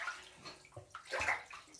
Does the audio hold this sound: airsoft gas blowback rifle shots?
no